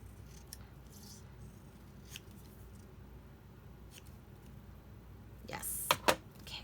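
Scissors trim a photograph for a junk journal craft, a few quick snips heard close near the end after a quiet stretch of faint handling and rustling.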